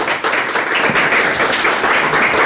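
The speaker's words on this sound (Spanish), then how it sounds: "De un aplauso a la palabra que es viva" A church congregation claps loudly and continuously, a dense close burst of applause that starts abruptly and keeps a steady level throughout.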